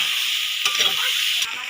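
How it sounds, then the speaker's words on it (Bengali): Soya chunks and potatoes fry together in a hot pan, making a steady hissing sizzle with a couple of brief stirring bumps, close and moderately loud. "আলুগুলো দিয়ে একসঙ্গে ভেজে নেব"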